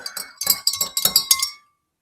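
Salt and pepper are stirred into water in glasses, producing quick, rhythmic clinks against the glass for about a second and a half, close and clear, before falling silent.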